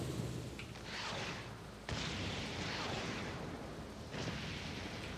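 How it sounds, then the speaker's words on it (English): Tank cannon shots in War Thunder, heavy booming blasts with a sharp onset near two seconds and another around four seconds, each followed by a sustained rumbling roar over steady engine-like noise, fairly loud and close. "So let's take some shots at it, see what happens."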